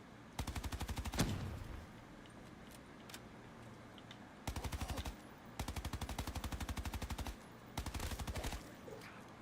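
Automatic weapon fire in Black Ops 3 Zombies comes as several rapid, evenly clipped bursts of varying length over a low game background, with one louder impact early on.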